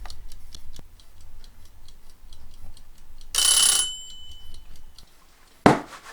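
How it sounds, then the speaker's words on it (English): A kitchen timer ticks in an even, quick rhythm, with a brief brighter ringing burst partway through and a sharp clatter near the end. "let's set the timer."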